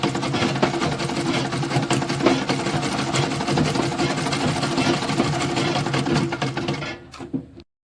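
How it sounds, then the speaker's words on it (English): A sewing machine runs continuously for several seconds, stitching fabric for a Mexican turban with a rapid, steady mechanical chatter close by, then stops abruptly. "As I'm sewing, I'll be forming my Mexican plates."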